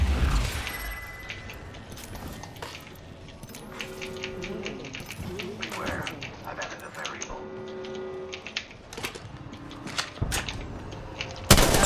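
Gunfire and clanking mechanical effects in a multiplayer shooter video game, with repeated sharp shots and rattling over a steady busy mix, and a voice talking throughout.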